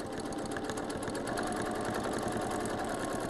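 A sewing machine runs steadily while free-motion quilting a feather pattern, its needle chattering in a continuous, even, close-up drone with no pauses or talk.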